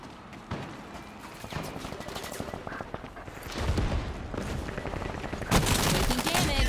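Bursts of rapid automatic gunfire in the online shooter Combat Champions, layered shots crackling close and loud, growing denser and heavier toward the end, with faint voice chatter mixed underneath.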